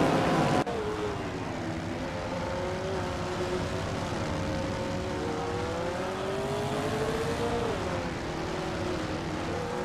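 Race cars in a racing video game roar with a steady, loud engine drone, its pitch sliding up and down through gear changes, running continuously and alone after a short opening.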